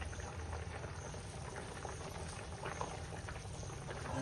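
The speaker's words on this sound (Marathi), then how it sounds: "पहा मंडळी मस्तपैकी या डाळ शिजत आलेली आहे." Vatana dal simmering in a pot on the stove gives a soft, continuous bubbling and gentle popping, quiet and close, with no talk over it.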